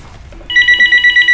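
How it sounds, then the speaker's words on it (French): A home telephone rings with a rapid electronic trilling bell, a steady pulsing ring repeating loud and close, with no one speaking over it. "Hey, téléphone sonne chez nous."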